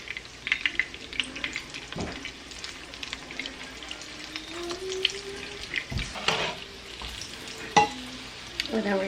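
Food frying in a pan during home cooking from scratch, a steady close sizzle with faint stirring and clinks throughout, no talking.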